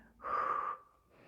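A single heavy, strained breath, a forceful exhale or gasp lasting about half a second, close to the microphone during a home workout session.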